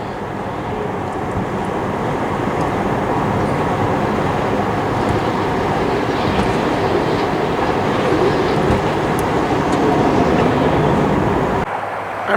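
A New York, Susquehanna & Western freight train rolls past on the Utica branch beside a city arterial road in Utica, a steady loud rumble with rhythmic wheel clatter sustained for about twelve seconds before cutting off abruptly.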